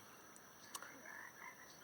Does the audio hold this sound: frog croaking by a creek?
yes